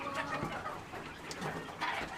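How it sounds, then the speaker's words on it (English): Chickens clucking in a farm barn full of birds, a steady mix of soft, overlapping clucks and calls close by with no talk. "Still got another barn full of birds to feed."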